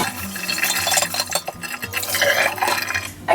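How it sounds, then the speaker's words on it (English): Water runs and splashes into a kombucha brewing jar being rinsed over a kitchen sink, a steady close wash with faint clinks of glass and no talking. "And then I would just want to give that a little rinse."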